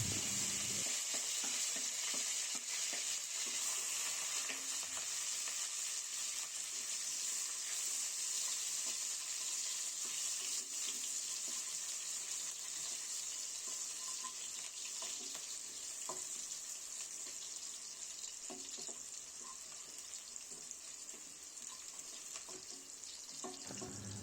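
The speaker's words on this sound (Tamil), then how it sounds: "கடுகு பொரிஞ்சதும் 2 கொத்து கருவேப்பிலை, 2 பச்சை மிளகா, 2 வெங்காயம் சேர்த்து நல்லா வதக்கணும்." Curry leaves, green chillies and onions sauté in a pan with a steady, bright sizzle that carries on alone for the whole stretch, with light stirring noises over it.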